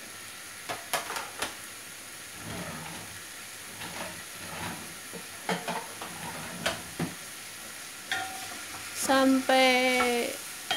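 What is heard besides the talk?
vegetables stir-frying in oil in a pan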